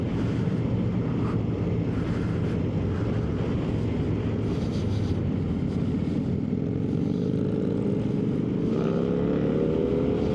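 2025 Indian Sport Scout Limited motorcycle accelerating hard in second gear onto a highway, a steady loud engine roar buried in heavy wind rush, its pitch slowly rising.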